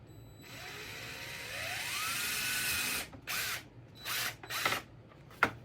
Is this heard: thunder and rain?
no